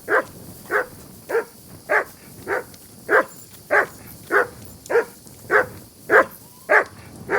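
A dog in the video game Kingdom Come Deliverance II barks about a dozen times in a steady, evenly spaced rhythm at moderate volume, with no speech over it.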